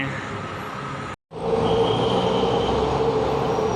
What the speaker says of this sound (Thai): รถไฟฟ้าสายสีม่วงตลาดบางใหญ่นะเพื่อนเพื่อนนะ